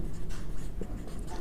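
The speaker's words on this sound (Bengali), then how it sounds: "তো আমরা লিখব যে" A math solution written out by hand, a short, close run of pen or chalk scratching strokes, steady and fairly quiet, with no talk.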